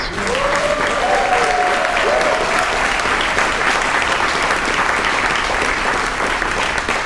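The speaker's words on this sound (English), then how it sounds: "a huge round of applause for these amazing singers" A concert audience applauds a community choir, loud sustained clapping from a full room while a faint voice briefly rises early on and then fades.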